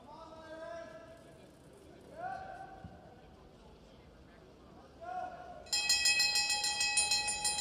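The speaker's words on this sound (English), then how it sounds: "Bell and 1 to go." At a masters track cycling world championship race, a bell rings rapidly and loudly to signal the final lap, a bright clanging burst that breaks in after stretches of voices and arena noise.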